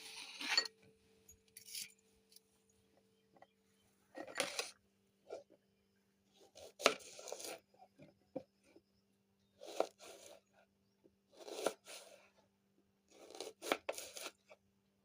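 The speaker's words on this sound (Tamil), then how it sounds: "இதை முதல்ல வெங்காயத்தை எடுத்து அரிஞ்சிக்குவோம்." Onion being sliced with a knife on a board for a spicy tomato pachadi: quiet, separate bursts of crisp cutting strokes in small clusters, spaced by short pauses, close and alone.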